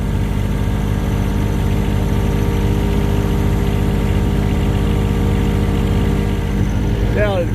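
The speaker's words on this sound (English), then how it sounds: "let's see if this little John Deere pulls this 10 up." A small John Deere tractor engine running steadily on a family farm during spring clean-up, a loud, close, even throbbing idle that fills the clip, with a brief voice near the end.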